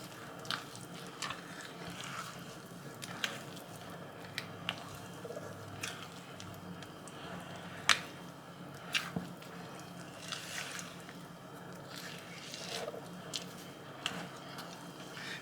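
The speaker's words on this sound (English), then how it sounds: "Just keep going around. Just keep mixing it." Cornbread batter of cornmeal and liquid stirred by hand in a bowl, a soft wet squishing with steady light clicks and taps of the spoon against the bowl, close and quiet throughout.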